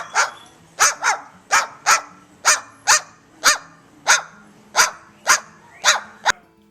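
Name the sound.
parrot imitating dog barking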